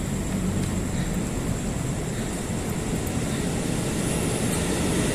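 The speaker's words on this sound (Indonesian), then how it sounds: "Oh, kereta biasa teman ya." A regular commuter train passes near a Jakarta station, a steady, loud rumbling roar of wheels and motors that holds evenly throughout with a faint high whine above it.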